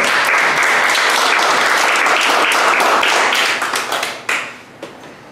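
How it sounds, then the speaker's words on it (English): Loud, dense applause from an audience at a youth interfaith group event, steady clapping that thins out and fades toward the end. "So let's please welcome him with a warm round of applause."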